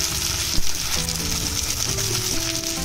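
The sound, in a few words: ginger garlic paste sautéing in a pan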